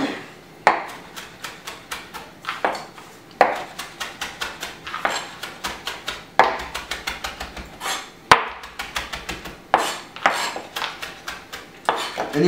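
A kitchen knife chops rolled-up fresh herbs on a cutting board in fast, steady runs of crisp taps, pausing briefly between bursts, close and clear with no talking.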